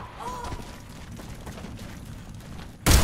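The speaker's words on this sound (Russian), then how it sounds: "Граната пошла!" A grenade blast in the online shooter Warface during a ranked PvP round, a single loud, sudden burst at the very end of a stretch of low game noise and rumble.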